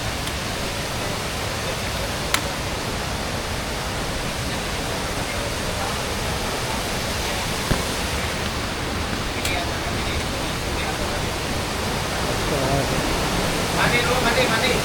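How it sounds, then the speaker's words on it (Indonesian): Heavy rain pours along a waterfall hiking trail, a dense continuous roar of falling water, loud and steady throughout, with a couple of faint knocks and no talk. "Airnya gede guys, hujan gede."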